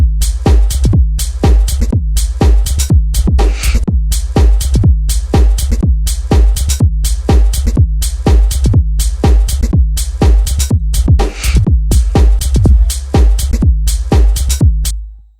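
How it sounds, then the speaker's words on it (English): Punchy layered kick drums pound in a fast, steady pattern over a continuous deep 808 and sub-bass rumble, loud and dense with no voices. "layer some kicks and an 808 and a sub all together at the same time"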